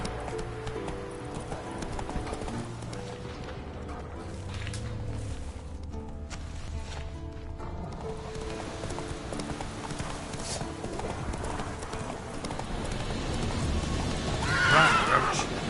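Hoofbeats of Roach, a horse in a video game, clip-clop steadily in a galloping rhythm over game music, with a whinny near the end and a brief voice urging it on.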